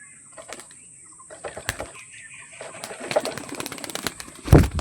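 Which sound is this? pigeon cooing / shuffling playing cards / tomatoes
pigeon cooing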